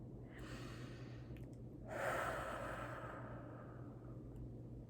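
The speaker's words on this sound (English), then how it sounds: "Deep breaths." A person draws slow, deep breaths close by, a long audible inhale and exhale over steady low background hum.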